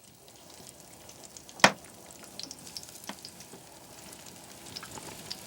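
Fish fillets sizzling in a frying pan, a quiet continuous crackle and hiss with scattered pops and one sharp spit, heard alone without talk.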